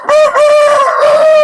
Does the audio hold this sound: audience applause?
no